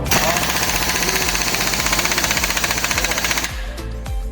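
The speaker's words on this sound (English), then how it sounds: "have your half-inch gun on maximum power, hold the gear with your hand, and count to 4 while you hold the trigger" A half-inch pneumatic impact gun at maximum power hammering off a WABCO air compressor gear, a loud continuous rapid rattling burst for about three and a half seconds, then stopping abruptly.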